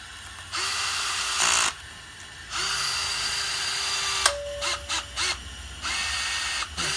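A power driver whirs in several short bursts and pulses while bolting a valve spring compressor tool back down onto an engine cylinder head, with brief pauses and light clicks between runs.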